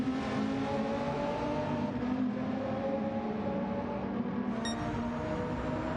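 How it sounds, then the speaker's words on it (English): Race cars in a racing video game hum through a warm-up lap in a GT series event, with a steady layered engine drone held at moderate distance and a brief sharp tick near the end. "I think if Alicos is going to get him, it would be during this warm-up lap"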